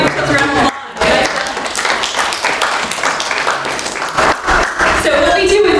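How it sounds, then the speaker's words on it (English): A workshop audience applauds in a room, a dense patter of many hands that briefly drops out near the start and then carries on loudly, mixed with voices. "Give yourselves a round of applause"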